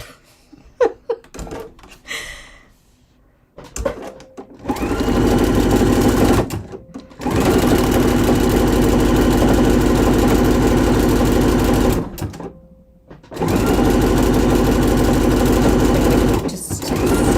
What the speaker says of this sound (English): So now I'm just going to sew my pocket opening.